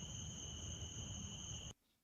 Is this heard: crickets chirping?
yes